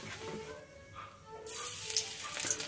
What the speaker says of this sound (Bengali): তেলটা একটু গরম হলে ফোড়নে দিয়ে দিচ্ছি গোটা জিরে আর রসুন কুচি